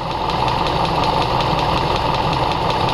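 A Toyota Avensis engine with a STAG LPG gas system idles steadily and close by during an injector test, a continuous even rumble with a faint rhythmic tick, no voices.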